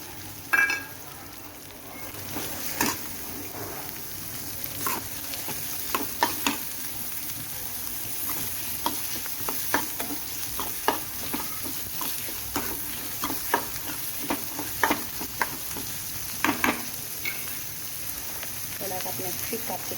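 Chopped onions fry and sizzle in a hot pan at home, with steady crackling hiss and repeated stirring scrapes throughout, fairly close and even in loudness, no talking.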